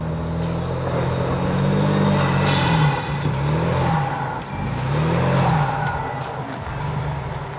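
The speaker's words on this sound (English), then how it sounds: "It also adds quite a bit of intake sound and you can hear that blow off valve a little bit." A sixth-generation Ford Bronco engine revs repeatedly with a strong intake roar, rising and falling in waves, with faint hissing puffs of a blow-off valve between revs.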